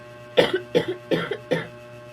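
Four sharp coughs in a row, evenly spaced and close, with no talking.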